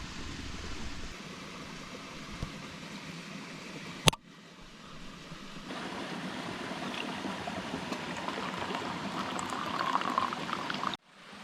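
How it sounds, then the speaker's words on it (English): Water boils steadily on a camping stove beside a waterfall while coffee is made, a continuous bubbling hiss with a sharp clink near four seconds and a louder pouring rush building toward the end before it cuts off. "Just getting a quick coffee on"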